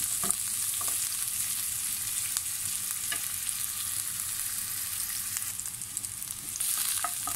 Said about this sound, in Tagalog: Tuloy-tuloy lang sa paghalo para hindi masunog.